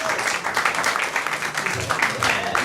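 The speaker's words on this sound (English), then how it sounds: "you might as well give them a preemptive round of applause" Studio audience on a game show applauds in a steady, moderately loud burst of many hands clapping, with faint voices and crowd murmur mixed underneath.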